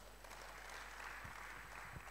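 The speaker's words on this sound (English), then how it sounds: "Can we give him a round of applause?" An audience at an opening ceremony claps in a steady, moderate round of applause, with a few low thumps beneath it.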